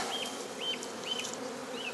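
Dense buzzing of a large swarm of docile Italian honeybees shaken out of a hive, a steady close drone filling the air with individual bees whining past, no speech over it.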